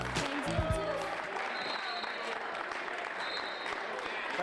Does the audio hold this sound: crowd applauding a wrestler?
yes